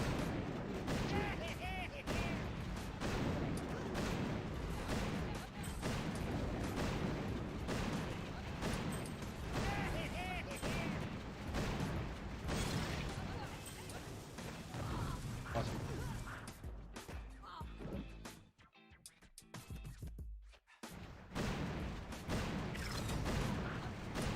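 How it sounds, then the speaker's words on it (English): Boom Beach battle with laser defences firing, a dense loud barrage of overlapping blasts, zaps and explosions that rolls on continuously, briefly dropping out near the end before the noise resumes. "On the other side of the lasers, so the lasers firing away."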